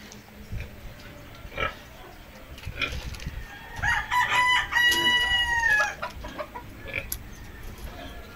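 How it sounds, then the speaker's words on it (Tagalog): Rooster crowing on a Filipino backyard farm among hens and pigs, one drawn-out crow rising and falling near the mic mid-clip, with scattered clucks and farmyard noise around it. "Ito naman ang aming barako."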